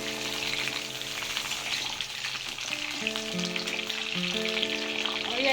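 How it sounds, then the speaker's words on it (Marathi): Small brinjals sauté in oil in a pan over a low gas flame for stuffed masala baingan, producing a steady, even sizzle with light stirring, under soft background music and no talk. "लो फ्लेमवरती करायचंय गॅस आणि वांगी चाळून घ्यायची थोडी।"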